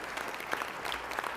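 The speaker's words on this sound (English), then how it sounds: "Let's give him a big round of applause" Audience applause at a city council meeting, a faint scattered patter of clapping from a crowd, heard briefly and at a distance.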